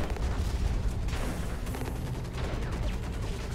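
Dense, continuous gunfire and blasts from a sniper fight in the mech shooter Hawken, steady and fairly loud for the whole stretch with rumbling low end and no talking.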